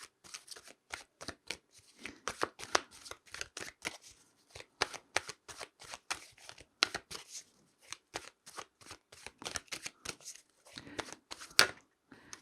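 Tarot cards are shuffled by hand in a quiet room, a long run of crisp, rapid riffling and flicking bursts with short pauses between them, close and clear with no talk.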